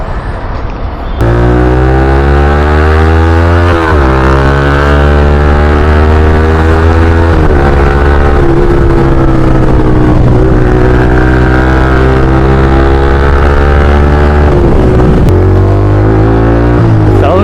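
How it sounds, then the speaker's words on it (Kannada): A Yamaha MT-15 motorcycle fitted with an Akrapovic exhaust revs up loud and close, its throaty note rising and falling through several blips and sustained high revs before settling back to idle. "ನಾನು ಬರೀ ಎಕ್ಸಾಸ್ಟ್ ನೋಟ್ ಮಾತ್ರ ತೋರಿಸ್ತೀನಿ"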